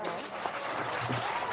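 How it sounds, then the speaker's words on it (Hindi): Audience applause at a live Hindi song performance, a steady dense patter of clapping held at an even level throughout, a little distant and somewhat faint, with a faint voice briefly present underneath. "ताली बजाओ।"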